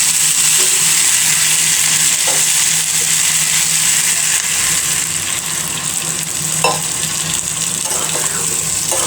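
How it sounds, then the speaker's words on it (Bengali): Desi chicken curry cooking in a pan just after a little water is added, giving a loud, continuous sizzle with occasional stirring knocks and no talk. "এবার অল্প একটু পানি দিয়ে কষিয়ে নেব।"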